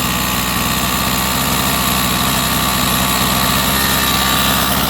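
A Rovan 45cc gasoline engine runs rich at a steady, loud idle, a continuous buzzing drone close by with no pauses.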